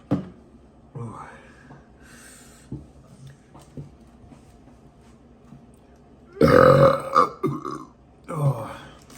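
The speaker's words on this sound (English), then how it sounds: "You guys wish you could burp like that." A man lets out a loud, long burp, then a second burp a moment later, close and alone, with quieter muttering from him before.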